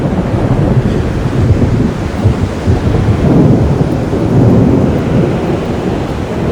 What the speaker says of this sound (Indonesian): Dan ini badai, cuy.